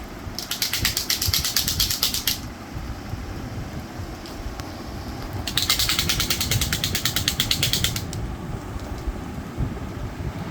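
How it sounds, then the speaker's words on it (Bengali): A plastic butterfly toy spun by a grandfather for a small child gives two bursts of fast, even ratcheting clicks, each lasting about two seconds, over a soft background hum. "আমি ঘোরাচ্ছি দেখো কেমন বাটারফ্লাইটা ঘুরছে"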